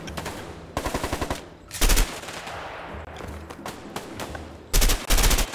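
Automatic gunfire from a firefight in the video game A Way Out comes in short, punchy bursts of rapid shots with louder close blasts near the middle and end, with faint ambient game noise between the volleys.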